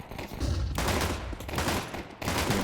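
Dual Berettas firing in a Counter-Strike match, rapid bursts of pistol shots in quick succession, loud and close, with brief pauses between volleys.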